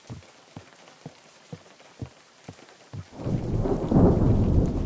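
Thunderstorm in the game Unturned: a series of sharp, evenly spaced rain or thunder cracks gives way to a loud, continuous roar of rain and rumbling thunder that swells and fills the second half.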